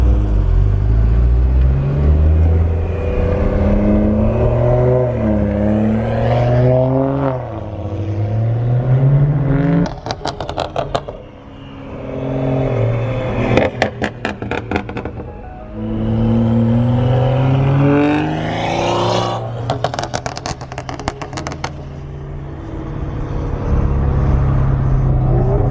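A BMW 435i revs hard, with paddle-shift engine roars rising and falling. Bursts of loud crackling exhaust pops come in several clusters between the revs. The car is close and loud, with no talk.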